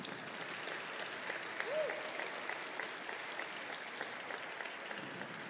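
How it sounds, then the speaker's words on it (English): An audience at a college convocation applauds steadily, a soft, even wash of clapping that is fairly distant and faint. "Let's give him one more round of applause."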